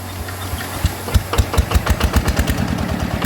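A rebuilt small engine with new gears starts and settles into a loud, close idle, its rapid thumping beats quickening into a steady knocking rhythm over a constant mechanical clatter.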